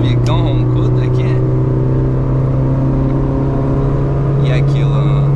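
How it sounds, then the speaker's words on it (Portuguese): A Honda Civic with a loud exhaust on the highway gives a steady, heavy low drone that holds for the whole stretch, with brief voices near the start and end. "O barulhão do escape tá bem ruim. Ó, o Civicão roncudo aqui."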